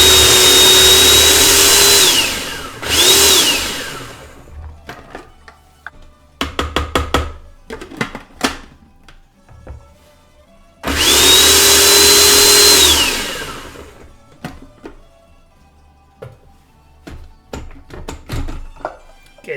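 Kitchen blender mincing a chicken parmigiana mixture, running in two loud whirring bursts of about two and five seconds with rising and falling pitch, separated by clattering, knocking handling noises.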